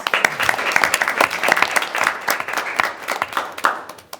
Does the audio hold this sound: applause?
yes